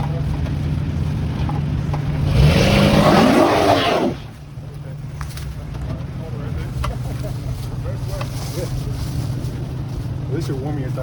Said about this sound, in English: At least you're warming your tires up.